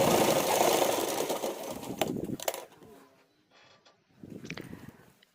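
A sewing machine runs in a steady burst while stitching a tassel border for a blouse, then quiets into softer, intermittent handling noises.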